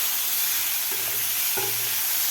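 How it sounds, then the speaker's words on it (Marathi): Tomatoes cook in a masala base in a pan, giving a dense close sizzle with a low hum and a couple of brief stirring knocks. "व्यवस्थित आपल्याला टोमॅटो हलवून घ्यायचा आहे खालच्या मसाल्यामध्ये"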